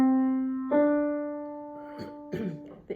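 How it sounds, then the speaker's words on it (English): Piano notes forming an interval of a second: a sustained tone rings alone, then a second note joins close in pitch, followed by a few more struck notes, clear and close. "This is an interval of a second."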